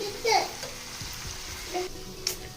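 Chettinad-style chicken pepper fry sizzles softly in a pan while being stirred, with occasional scraping and faint voices in the background.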